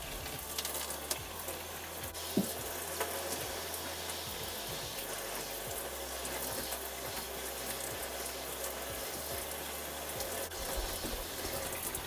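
Water runs steadily to rinse shampoo out of hair, a constant close splashing stream with small irregular drips and knocks and no speech.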